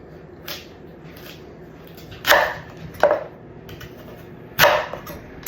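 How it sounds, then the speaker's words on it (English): A small Pampered Chef knife cuts sweet potato into chunks on a board, giving three crisp, separate chops against a quiet background. "I'm going to cut the sweet potato in chunks."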